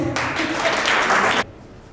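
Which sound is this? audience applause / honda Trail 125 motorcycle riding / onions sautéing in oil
audience applause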